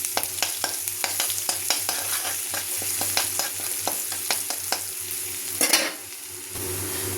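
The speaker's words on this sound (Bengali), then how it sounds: "আদা রসুনটা দিয়ে দেবো।" Ginger and garlic sizzle in hot oil in a pan for rajma, a steady frying hiss broken by regular clinks and scrapes of a spoon stirring, close and fairly loud, with a brief louder flare near the end.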